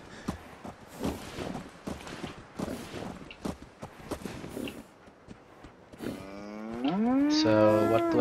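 Brahmin cattle in Fallout 4 give a loud, drawn-out moo near the end, preceded by a stretch of shuffling, thudding footsteps and hoof clatter.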